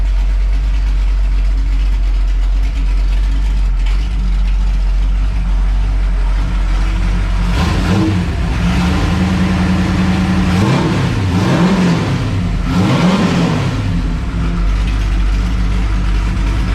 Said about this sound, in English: that X pipe and these headers sound 100 times better than that old ratty exhaust